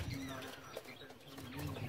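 Soft cooing of Sialkoti breeder pigeons murmurs beneath a low, continuous background hum, with faint chirps and a brief rustle.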